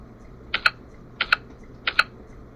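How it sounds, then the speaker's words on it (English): D and K keys tapped on a computer keyboard in three evenly spaced pairs of crisp, close clicks, each pair a quick double stroke, alone in a quiet room. "To type D's and K's, keep your number 1 fingers on the touch keys and use your number 2 fingers to press D and"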